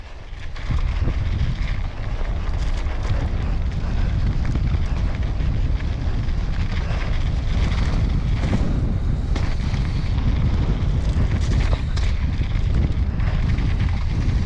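Outdoor wind buffets the microphone during a bike ride, a loud, constant low roaring rumble that fills the whole stretch with no talk.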